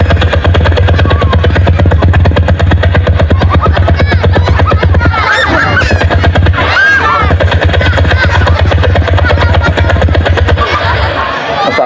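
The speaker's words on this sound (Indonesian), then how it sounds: "Kak Ari pura-puranya naik pesawat." Pretend airplane or helicopter effect during a children's storytelling event, with a loud, continuous rhythmic whirring drone like rotor blades that dominates throughout while children's voices and chatter rise faintly beneath it.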